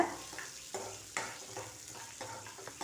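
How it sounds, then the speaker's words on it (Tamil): Green gram and shallots are stirred in a pan over a soft sizzle, with several scraping strokes of the spoon at a loose, uneven rhythm, close but fairly quiet and with no voices. "சேர்த்துட்டு நல்லா கலந்து விட்டுக்கோங்க"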